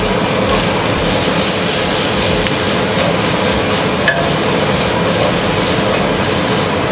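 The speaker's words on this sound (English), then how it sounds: "It's sizzling away." Steady, dense sizzling and crackling from garlic and mushrooms frying in a hot pan, continuous and fairly loud with a constant hiss throughout.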